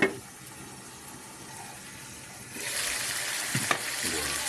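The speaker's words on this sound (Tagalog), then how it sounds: "Simmer lang natin hanggang sa matuyo pa ng konti bago natin ilagay yung kanyang sauce" Marinated chicken adobo cooks in a pan with a steady low sizzle that grows louder and busier partway through, with a few sharp clinks near the end.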